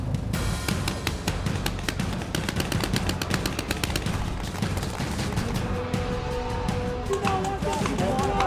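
Paintball guns fire in rapid, overlapping bursts during a West Point paintball game, a dense rattle of pops and cracks running throughout with faint shouting mixed in.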